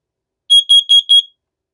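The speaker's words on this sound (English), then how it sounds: "The alarm will now sound in 5 seconds." Test alarm from a 5800COMBO smoke and carbon monoxide detector on a Lyric alarm system: four loud, shrill electronic beeps in quick even succession, then silence.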